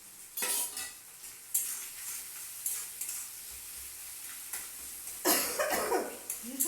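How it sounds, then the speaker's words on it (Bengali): Harsh throat coughs from a cook with a bad cough in a home kitchen while a light fish curry with tomato simmers; three loud bursts stand out over faint utensil clinks and sizzling. "ভীষণ গলার কাশি,"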